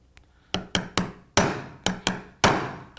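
A blunted chisel about 2.5 inches wide is tapped down into a double-hung or casement window frame during re-glazing. Seven sharp, close strikes come in an uneven rhythm, each decaying quickly, with no talk.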